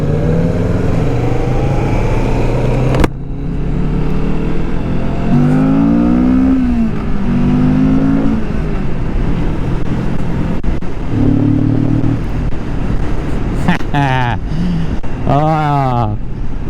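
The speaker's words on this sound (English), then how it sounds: "All right, my rev." A 2022 Kawasaki Vulcan S motorcycle engine revs up and falls back several times, a loud close rumble with rising and falling pitch sweeps over a steady idle, under a noisy outdoor background.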